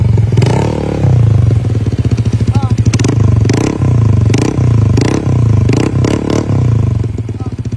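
A motorcycle engine idles with a throbbing exhaust note and blips of the throttle in repeated pulses, close and loud.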